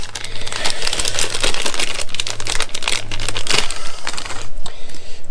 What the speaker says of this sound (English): The next job is to take our reagent B sachet.